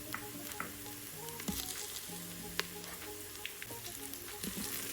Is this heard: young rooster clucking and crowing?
no